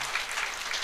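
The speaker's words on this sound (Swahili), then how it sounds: "Simpigie makofi mazuri." Congregation applauding during a church service, a steady wash of clapping filling the whole short moment with no talk over it.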